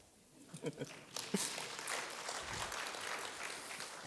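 Faint audience applause builds after a few scattered claps during a simulated audit committee meeting, welcoming the external auditors, with a voice briefly heard.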